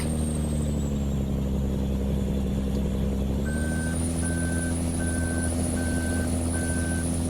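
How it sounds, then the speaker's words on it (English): Truck engine idling then revving in Farming Simulator 15, a steady drone that rises midway, joined by evenly spaced reversing beeps repeating five times. "now we got ourselves our truck"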